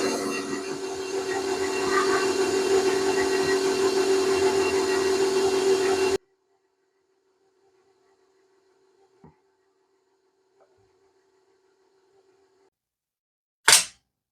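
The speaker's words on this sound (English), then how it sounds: "you want to have your mixer on low speed" An electric mixer whirs steadily on low speed through sponge cake batter, a loud continuous hum for about six seconds before cutting off into near silence, with a few faint clicks and a sharp bump at the end.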